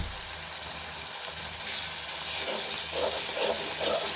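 Ginger garlic paste fries in a pan for egg curry, giving a close, steady sizzling hiss that grows louder and bubblier toward the end.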